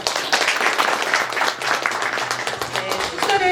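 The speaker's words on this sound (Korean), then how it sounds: "축사를 대독해 주신 김은진 기조실장님께 다시 한번 큰 박수 부탁드립니다." Loud, dense audience applause fills an indoor policy forum hall, a sustained burst of many hands clapping together that tapers off near the end.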